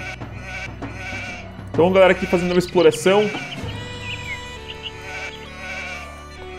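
Sheep bleat repeatedly in the real-time strategy game Age of Empires 2, a cluster of loud, wavering game bleats over a couple of seconds while someone talks throughout over quiet game ambience.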